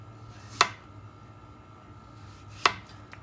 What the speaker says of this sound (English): We are going to just chop some little French fries size